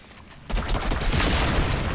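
A shotgun fires in a video game, an abrupt loud blast followed by a dense burst of crackling, echoing gunfire noise that fills the remaining moments.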